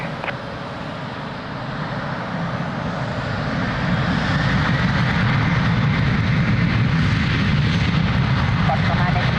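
A jet airliner rolls for takeoff on runway 02 at Lisbon Airport, a broad engine roar that builds steadily and holds loud to the end, with faint radio-style talk beneath it.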